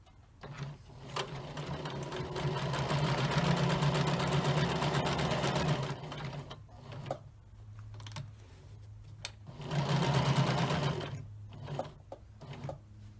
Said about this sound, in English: let's get on the sewing machine and let's see what that looks like